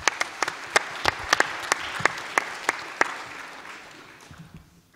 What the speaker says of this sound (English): so give yourselves a round of applause for doing that.